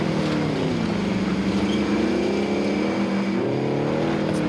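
A rover vehicle drives in Warzone with a steady engine drone and wavering pitch, loud and continuous throughout without pause.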